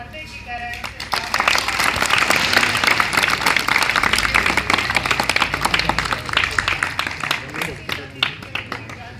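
An audience claps together in sustained, dense applause at a 75th Constitution Day event at a village government school; the clapping swells early, holds steady for several seconds, then thins out toward the end, with a voice over a speaker system.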